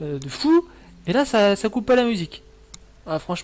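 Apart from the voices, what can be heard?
No everyday noises stand out.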